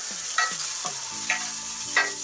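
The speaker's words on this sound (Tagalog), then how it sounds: "Kapag medyo malambot na yung sibuyas, itagtag na natin yung luya." Ginger sautéing with softened onions in a pan for fish escabeche, a close sizzle broken by a few short scraping stirs at a regular pace, with no voices.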